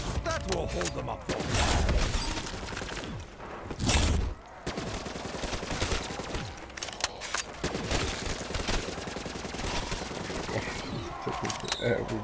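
Rapid, dense gunfire against zombies in Black Ops 3 zombies mode on the Kino map: bursts of automatic fire and loud booms crowd each other across the whole stretch, with people talking over the shooting.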